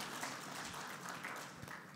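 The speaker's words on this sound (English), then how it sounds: "A round of applause for the panelists." Applause for a panel at a Smart Rwanda Days 2014 conference session, a steady broadband wash of clapping held at moderate, somewhat distant level for two seconds, with no clear talk over it.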